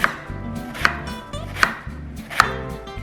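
A knife cuts a peeled, trimmed cucumber into long strips on a cutting board: four crisp, evenly spaced chops over soft background music, with no talking.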